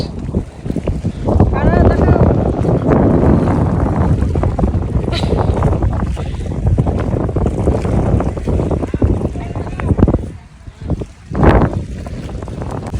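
Strong wind buffets the microphone at Port Dickson beach, roaring loudly and almost continuously with gusty surges, easing briefly near the end, while voices are faintly present beneath it.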